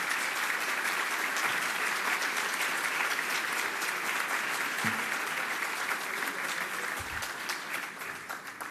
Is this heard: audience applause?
yes